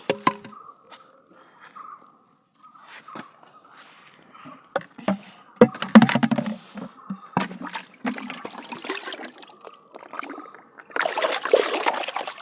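Water pumped by a motor onto a farm in Kerala gushes and splashes in irregular bursts, getting louder and more turbulent toward the end, with trickling and dripping between the surges.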